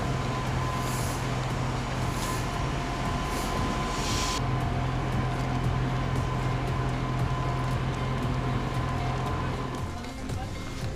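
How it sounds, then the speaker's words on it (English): A small passenger train from Kyiv Boryspil Airport to the city centre rumbles along at steady speed with a constant low drone and faint rattling, heard from inside as people talk nearby. "It's a small train."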